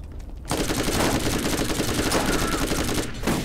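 Rapid automatic gunfire in the co-op shooter Borderlands, a loud sustained burst of machine-gun fire lasting about two and a half seconds, starting abruptly after a brief quieter moment.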